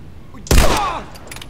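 A single loud gunshot blast with a short ringing tail in The Last of Us, sharp and close after a quiet stretch, fading within half a second.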